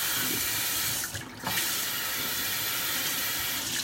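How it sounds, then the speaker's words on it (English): A kitchen tap runs hard over salmon being rinsed, a loud steady rush of water with a brief dip and splash shift as the fish moves under the stream. "we're just going to rinse off our salmon and lay it in our bottom of our pan"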